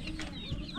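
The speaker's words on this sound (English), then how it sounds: "Chicken. Chicken." Chicken clucking in a farmyard with turkeys and ducks about, a short close burst of low clucks over a busy outdoor background.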